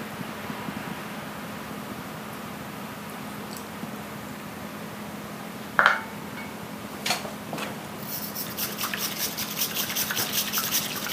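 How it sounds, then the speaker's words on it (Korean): Hot water poured into a ceramic bowl to rinse a bamboo matcha whisk: quiet room hiss, a brief splash near the middle, then a rising continuous stream of pouring and sloshing water toward the end. "뜨거운 물을 붓고 차선을 한번 헹궈 줍니다."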